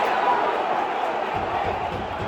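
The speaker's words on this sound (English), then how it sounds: "by Mosquera, and Mosquera step over, much to the cheers of the away fans to my right, as Burnley tries to get the ball back." Away supporters cheering and roaring inside Turf Moor during a Burnley versus Wolves football match, a dense, loud, continuous crowd noise with a commentator's voice partly mixed in.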